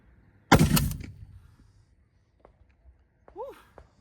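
A single loud, close Barrett .50 BMG rifle shot cracks out and rumbles away in the open outdoors, followed by quiet ambience and a few small faint sounds.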